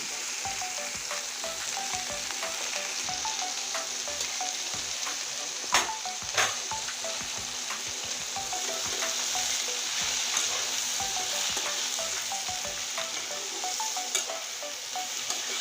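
Bottle gourd sautés with green chilli and turmeric in a pan, a steady close sizzle broken by rhythmic stirring scrapes and a couple of sharper utensil knocks, with no talking.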